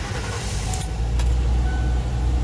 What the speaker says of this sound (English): now you're going to hear a lot of noise in the background because of the fan